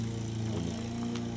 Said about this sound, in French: Vous entendez, c'est le bruit des tondeuses.